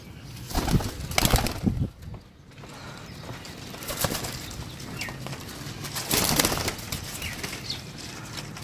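Pigeons flap their wings in bursts, a close, rustling flutter that swells and fades several times over a low background hum.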